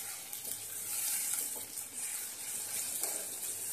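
Coriander leaves, green chilli and garlic paste frying in a pan, giving a steady hissing sizzle with faint bubbling that stays even and close throughout, no voices.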